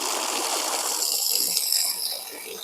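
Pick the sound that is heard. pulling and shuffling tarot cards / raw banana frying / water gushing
water gushing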